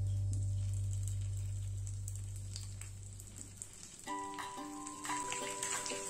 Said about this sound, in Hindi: तेल गर्म हो गई है, अब हम लोग इसमें अरबी डालेंगे।